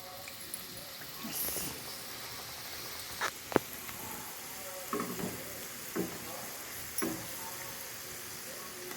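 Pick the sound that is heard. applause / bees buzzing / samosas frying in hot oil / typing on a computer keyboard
samosas frying in hot oil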